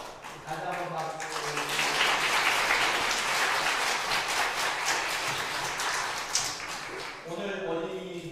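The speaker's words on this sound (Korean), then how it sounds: "다시 한번 박수." Church congregation applauding after a Children's Sunday presentation, a dense sustained patter of clapping for several seconds, with a voice speaking over it at the start and end.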